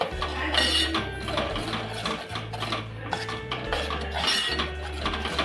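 Masala paste being stirred and sautéed in hot oil in a pan for a Maharashtrian black fish curry, with steady scraping and clinking of a metal spoon against the pan, close up, no talk.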